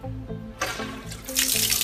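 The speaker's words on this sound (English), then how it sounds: "If I turn this on right here, it'll fill up the saltwater tank down below with RODI water" Tap water running from a saltwater mixing station, RODI water filling a saltwater tank below, starting as a faint trickle then swelling to a steadier, louder gush near the end.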